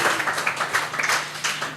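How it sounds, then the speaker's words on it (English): A burst of hand clapping from a symposium audience, steady and fairly loud, with no speech over it. "everyone clap for women"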